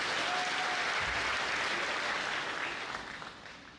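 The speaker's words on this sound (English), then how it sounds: "Give Malema a big clap." Steady applause from a university crowd in Kenya at a political address, dense and even, gradually thinning toward the end.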